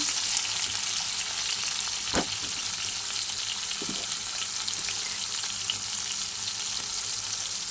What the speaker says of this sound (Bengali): ছোটো ছোটো উচ্ছে আমি কুচি করে নিয়েছি। চলো ভালো করে ভেজে নেব।